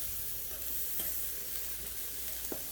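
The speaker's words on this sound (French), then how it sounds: "il en faut quand même un peu pour bien cuire les aubergines" Aubergine slices frying in a little brushed-on oil in a pan, a steady soft sizzle running throughout with one brief utensil tap near the end, no voices.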